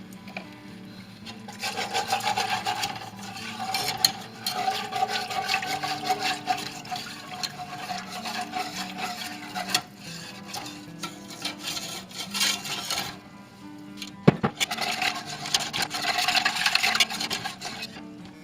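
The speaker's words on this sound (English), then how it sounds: "And then you want to add 1 1/2 cups of milk. Stirring the whole time." Milk is stirred into the sauce of a turkey, mushroom and wild rice casserole, making soft scraping and sloshing sounds in uneven bursts with short pauses, close and fairly quiet, with one sharp knock near the end.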